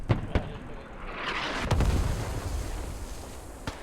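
Hell Cannon artillery fire in a video game: several sharp booming blasts, with loud hits near the start, one around the middle and one at the end, set over a constant rumbling battle din.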